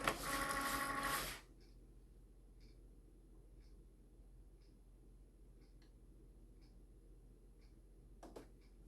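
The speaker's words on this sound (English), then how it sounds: "We're going to go ahead and load that." A Cricut cutting machine loads a mat carrying glitter cardstock: a brief loud whirring burst at the start, then faint, evenly spaced soft ticks over quiet hum, with another short mechanical rattle near the end.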